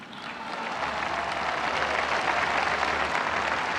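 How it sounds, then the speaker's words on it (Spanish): Crowd applause at a Mexican presidential speech, a steady, dense wash of clapping that rises at the start and holds at moderate level. "un aplauso"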